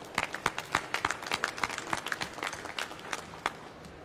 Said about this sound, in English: So I ask everyone to pause for a moment and applaud the state for moving forward with this